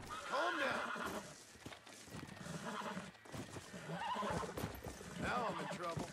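A horse whinnies loudly and shrilly in Red Dead Redemption: Undead Nightmare, with hoof clip-clops and a voice talking over the game audio.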